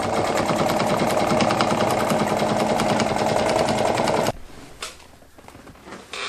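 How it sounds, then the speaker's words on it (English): A sewing machine stitches a seam on a ghillie suit in a loud, fast, steady mechanical rattle for about four seconds, then stops abruptly, leaving quiet handling noises. "I'm sewing on this seam, so it's all strong and it will all be durable."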